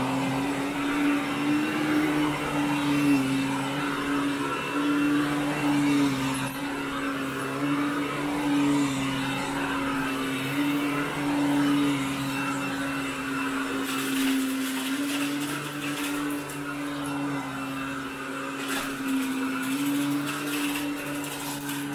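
A vacuum cleaner pulls extreme dry soil out of a homeowner's carpet during pre-vacuuming, its motor holding a steady, close whine with a constant rushing airflow, running on alone with no talk.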